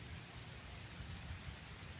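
Steady rain pours down outdoors at Puerto de San Diego in Intramuros, a dense, continuous hiss with no voices over it.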